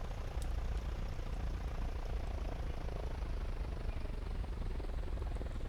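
A Piper Cub light airplane taxis, its engine giving a steady, loud, continuous drone with a strong low rumble and broadband noise that holds even from start to finish, with no voices.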